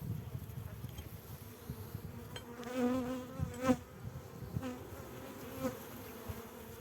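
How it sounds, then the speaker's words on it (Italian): Honeybees swarm over an opened hive box, making a dense, continuous buzz close by with a few louder passes from bees flying near. No voices are heard. "Qua di api ce ne sono tante, un bel nido"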